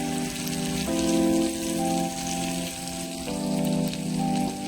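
A Bengali fish-oil chorchori with chopped green chillies stir-fries in a pan, giving a continuous rain-like sizzle beneath a steady, droning background hum.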